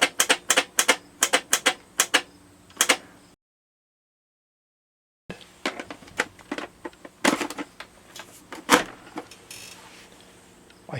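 Rapid clicking of a Weltron 2001 Spaceball light switch being worked back and forth to clean it, crisp mechanical clicks in quick irregular bursts, a few seconds of silence, then more clicking with some handling noise.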